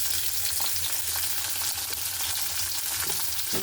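Jackfruit seed paste with a pinch of salt frying in a pan, a dense, steady close sizzle with faint intermittent stirring sounds and no talking.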